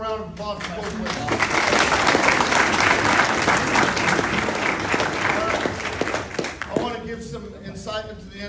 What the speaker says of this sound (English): One more round of applause for Coach Whitlock